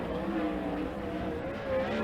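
A 410 sprint car laps a dirt track, its engine a steady loud drone with slight pitch swells, continuous and close.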